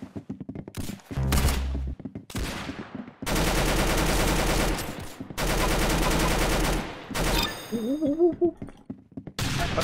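Rapid bursts of gunfire in the shooter game Roblox Arsenal, several loud sustained volleys separated by short pauses, with a few single shots and clatters.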